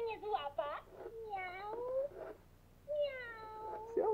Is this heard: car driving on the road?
no